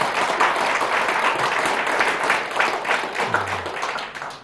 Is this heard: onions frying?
no